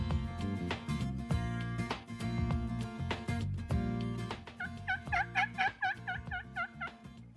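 Wild turkeys gobble in a Western Oregon woodland in the Willamette Valley, several rapid rattling calls in a row over a busy, continuous background.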